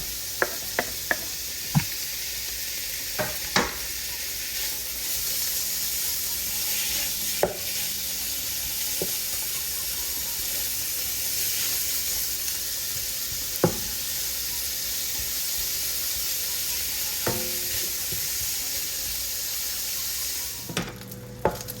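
Bacon fries in a pan for fried rice with broccoli: a continuous bright crackling sizzle up close, broken by scattered sharp pops and occasional knocks of a utensil.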